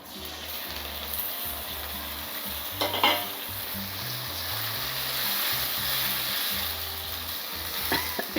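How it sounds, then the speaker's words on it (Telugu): Ginger fries in a pan with a loud, continuous sizzle, and a few spatula scrapes and clinks sound close by. "అల్లం చూడండి మంచిగా ఎర్రగా వేగింది."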